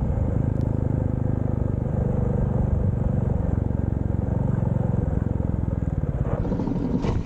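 A motorcycle rides a rough, muddy road in Nong Khai, its engine a steady low rumble mixed with wind noise, close and continuous throughout, with a slight jolt near the end as it crosses a big bump.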